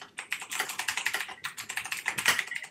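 Rapid, continuous clatter of keys on a computer keyboard as a chat command is typed during a Minecraft-style game session, close and crisp with irregular bursts of keystrokes and no talk.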